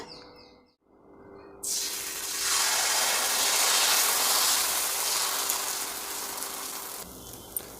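Dosa batter hits a hot pan with a sudden loud sizzle that swells into a steady broad hiss, then eases off toward the end, with no talking.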